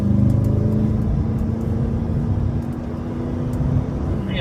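Corvette ZR1 on a track at Corvette Academy, its engine droning loud and close from inside the car with a steady low tone and a slowly rising pitch as it pulls hard.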